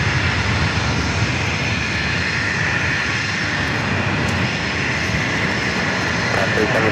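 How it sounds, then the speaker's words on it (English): An Airbus A350 jet roars loudly and steadily as it passes at San Diego airport, a dense, continuous engine rush with no break, and radio voices faintly underneath. "A350 making its way over here to 27."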